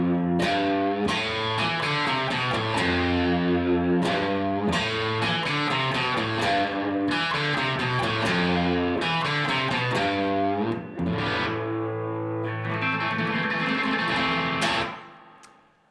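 Electric guitar plays a riff, a fast rhythmic run of picked notes repeated in bursts, loud and up close, then fading out at the end without any speech.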